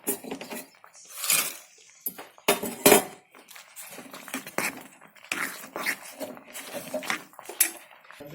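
A spoon stirs mango kesari in a pan and roasted cashews are tipped in, giving irregular close clinks and scrapes against the metal in uneven bursts, with no talking.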